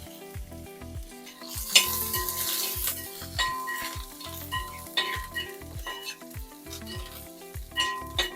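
Homestyle pork curry fries in a pan with curry leaves, giving a close, steady sizzle broken by repeated scraping stirs and occasional light clinks of a utensil against the pan.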